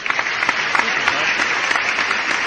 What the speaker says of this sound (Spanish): Así que, Mari, te voy a dedicar estos aplausos.